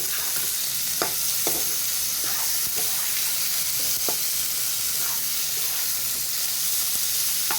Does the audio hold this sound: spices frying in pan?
yes